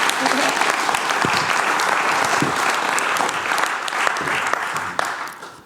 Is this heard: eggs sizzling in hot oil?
no